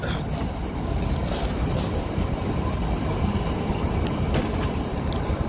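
The Himalayan Queen toy train on the Kalka-Shimla railway passes through tunnel number 10, making a loud, steady rumble with rattling wheel and carriage noise and faint squeals throughout.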